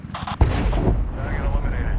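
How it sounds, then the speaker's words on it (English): An aircraft fires a missile in Medal of Honor, a sharp high whoosh followed by a loud, heavy blast and a sustained roaring rush, close and dense with faint radio voices underneath. "Missile off the rail."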